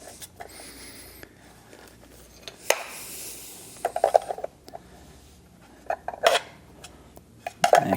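Metal-on-metal clicks and light ratcheting as a 90-degree brake line fitting is threaded in during a DeeMaxx disc brake kit install on a 2025 Coachmen Chaparral fifth wheel, with scattered taps and clinks close up.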